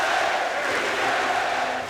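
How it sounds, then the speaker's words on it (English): Big arena crowd at a Philadelphia 76ers basketball game chanting "beat LA," a dense, steady roar of many voices sustained loudly throughout with no single voice standing out. "And you hear the crowd is chanting to the Sixers, beat LA."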